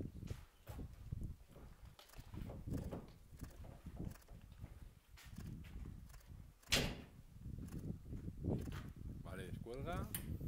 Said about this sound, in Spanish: Cuando vuelvas, cierra la puerta del tractor